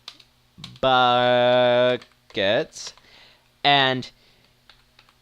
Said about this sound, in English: I'm using a keyboard that I'm not really used to as part of the thing that why I'm fumbling up my typing so much